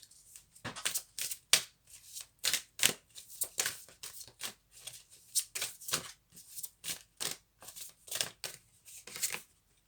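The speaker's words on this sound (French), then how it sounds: "mélanger les énergies avant de faire tomber les cartes, bien les mélanger." Tarot cards being shuffled by hand, a steady series of soft riffling bursts repeating roughly twice a second, close and quiet with no voice over them.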